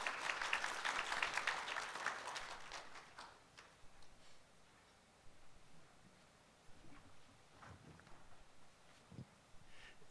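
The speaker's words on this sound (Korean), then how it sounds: "큰 박수 부탁드립니다." A seminar audience at a 2019 retirement income event claps loudly for the first few seconds. The applause then thins to scattered, fading claps and faint room noise.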